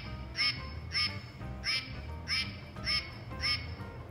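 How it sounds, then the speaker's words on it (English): A domestic duck, a drake, quacks six times in a steady evenly spaced series, each call loud and close over a low background rumble. "So definitely a little bit more of a quack to that one."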